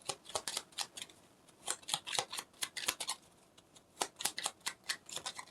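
A deck of tarot cards is shuffled close by, making quiet, irregular bursts of crisp riffling and snapping with short pauses between them.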